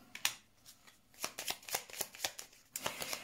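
Tarot cards are shuffled close up in a quiet room. Quick, crisp riffling bursts repeat in an uneven rhythm over a few seconds.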